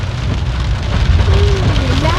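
Heavy rain falls in Thoothukudi in a thunderstorm, a loud steady wash of drops on surfaces up close, with a faint tonal whine rising near the end and no distinct thunderclap.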